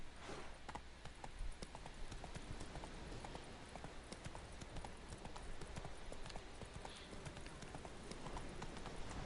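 Horse hooves clip-clop steadily at a walking pace in the Witcher 3 video game, a continuous rhythmic clatter of Roach's hoofbeats with faint rustling in the background.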